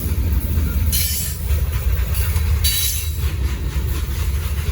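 Norfolk Southern freight train 154 rolling past at close range in Gaffney, South Carolina: a loud continuous low rumble with rhythmic wheel clatter and bursts of high metallic squeal and hiss.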